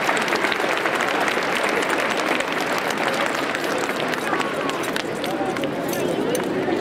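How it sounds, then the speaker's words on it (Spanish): A school audience at a start-of-year ceremony breaks into sustained applause, a loud, dense clatter of clapping filling the room with crowd noise and voices mixed in underneath. "Le recibimos con un aplauso."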